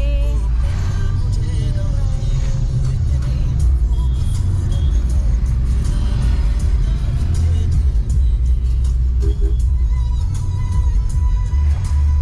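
A car engine runs steadily while driving, a loud continuous low rumble that fills the whole stretch, with faint voices now and then underneath.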